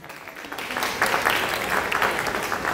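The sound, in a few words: audience applause after children's play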